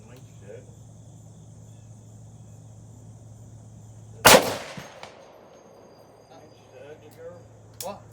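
A Barrett M82 .50 caliber rifle fires a single loud, sharp blast that rings out briefly over a quiet outdoor background with faint insect buzz, followed by a few small clatters.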